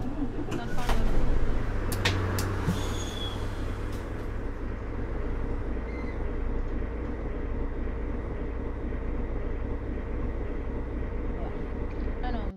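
A city bus on route 257 in the OMSI 2 bus simulator pulls away, its engine a low, steady rumble with a few clicks and knocks near the start.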